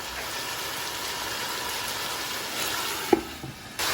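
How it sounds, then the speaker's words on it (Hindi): Chicken curry (salan) simmering in a covered pot gives a steady, low sizzling hiss, with a soft clink near the end. "तो देखिए आहिस्ता आहिस्ता चिकन जो है वो अच्छी तरीके से कुक हो रहा है।"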